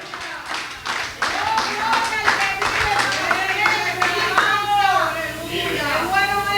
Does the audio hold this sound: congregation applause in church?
yes